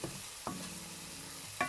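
Mushrooms fry in a pan as they brown, a soft steady sizzle with a couple of sharp utensil scrapes or stirs, fairly quiet and close, no voices.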